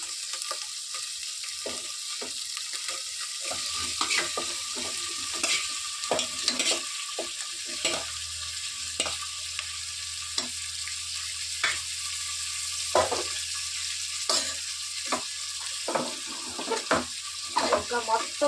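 Boiled country chicken stirred into frying masala in oil, with repeated scraping stirs and utensil knocks over a constant sizzling hiss, close and moderately loud.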